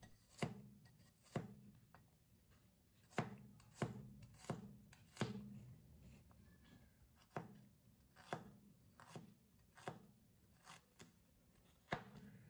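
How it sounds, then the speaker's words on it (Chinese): A knife chops garlic and ginger cloves into fine bits on a board, making sharp, close, fairly quiet knocks at an irregular pace with short pauses between bursts. "再剁一剁"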